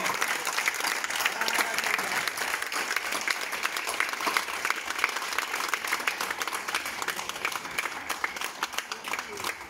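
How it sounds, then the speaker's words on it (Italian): Sustained, dense audience applause at an award ceremony in Jelsi, loud and steady throughout with a crowd clapping continuously and no break. "Un forte applauso."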